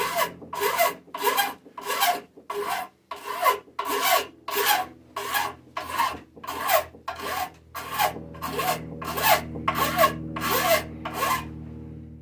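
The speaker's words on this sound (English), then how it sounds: "File down one of the pins on this rifle." A hand file rasps across a pin on a rifle barrel at a historic homestead, about sixteen loud, close, evenly spaced strokes in a steady rhythm with short pauses between each pass.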